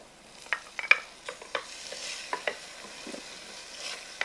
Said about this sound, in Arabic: ونقلي الطماطم